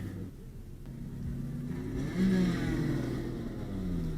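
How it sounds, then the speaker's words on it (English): A car's engine rumbles steadily and builds into a rising rev as the car pulls away, loud and close throughout, with no talking. "we're gonna go for a drive, go for a little cruise."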